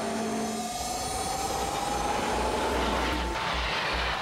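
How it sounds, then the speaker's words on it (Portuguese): A Eurostar high-speed electric train departing, a steady loud rushing rumble with a faint rising whine throughout, no voices. "neste trem da Eurostar, que está de partida para a Disneylândia de Paris"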